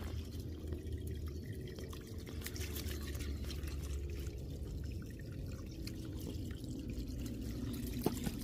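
Water trickles and drips steadily, close by and moderately loud, as a ferret digs and plays in it, with a continuous liquid patter and a brief louder splash near the end.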